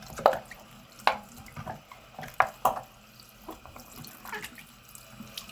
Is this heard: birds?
no